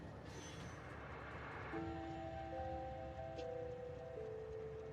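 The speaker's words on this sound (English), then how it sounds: "New train comes in." In a railroad-building video game, a train rumbles in and sounds a sustained, multi-tone horn. The horn begins midway and holds over steady rolling noise, with no voices.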